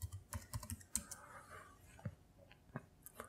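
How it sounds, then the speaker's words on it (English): Password being typed on a computer keyboard while setting up Ubuntu 18 in a virtual machine, a quiet, close series of irregular key clicks with short pauses between bursts. "let me just type in my password to enable those updates to be done"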